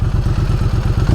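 Triumph Street Twin motorcycle engine running steadily near the microphone, a smooth, even low throb with a regular pulsing beat and no other sounds.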